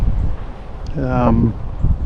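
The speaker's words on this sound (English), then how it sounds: "Apologize if it's kind of windy out here." Steady low wind rumble buffets the microphone outdoors at a cemetery throughout, with a brief voiced sound in the middle partly masked by the gusts.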